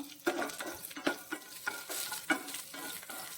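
Curry leaves and dried red chilies hit hot oil with fenugreek for a prawn dish, giving a close, crackling sizzle with repeated sharp popping spurts and stirring.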